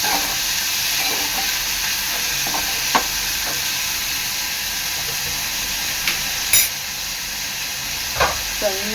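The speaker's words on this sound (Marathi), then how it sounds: "बारीक चिरलेला कांदा कांदा चांगला लाल होईपर्यंत शिजून घ्यायचा आहे" Finely chopped onion frying in oil with mustard seeds, a steady sizzle with a few sharp stirring clicks and pops, close and alone.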